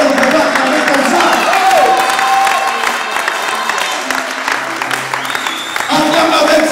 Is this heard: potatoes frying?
no